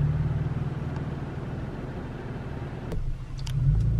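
A car drives through mud on a mountain track, its engine a steady low rumble and growl that surges briefly near the end, with no voices.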